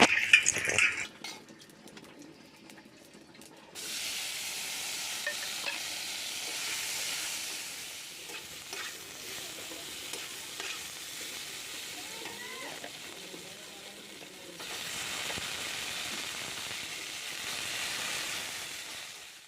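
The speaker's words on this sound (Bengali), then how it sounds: "ওর জন্য এক পিস পেটির মাছও ভেজে দিচ্ছি" A piece of rohu fish belly fries in a pan, giving a sizzling hiss that quiets for a while and then swells again. Faint utensil clinks sound near the start.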